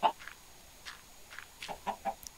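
Chickens cluck in a Minecraft chicken farm, a handful of short, separate video-game clucks scattered across a quiet background.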